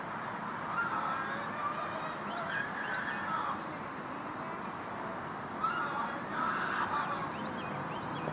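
Birds call out in agitated alarm in woodland along a hiking trail, two bursts of harsh, honking cries a few seconds apart over a low background hiss, moderately distant and without speech.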